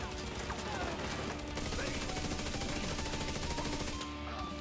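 Rapid automatic gunfire from a Striker build in The Division 2 rattles continuously at moderate loudness, a dense unbroken stream of shots with game effects layered over it and a brief shift near the end.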